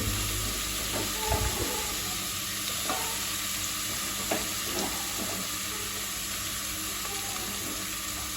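Chopped garlic and onion frying in a pan for masala dosa filling, a steady broad sizzle under constant background hiss with a few faint knocks, no talking.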